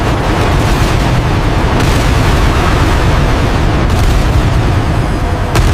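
Multiple explosions rage during a titan battle, a dense continuous roar of booming blasts and rumbling debris filling the whole stretch, very loud and unrelenting.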